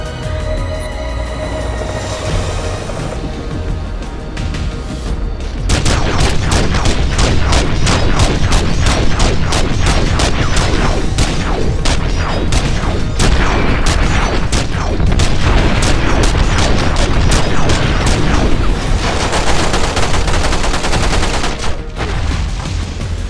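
Dense, continuous gunfire and explosive booms from a shootout in the video game The Matrix: Path of Neo, with grenade launcher blasts. After a quieter opening, a loud, sustained barrage of rapid shots runs for most of the stretch with no talking.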